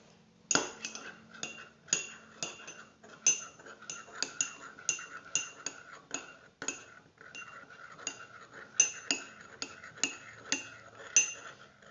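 A spoon stirs tea in a cup, tapping and clinking against the sides in a quick, steady rhythm of about a dozen close, bright clinks with no talking.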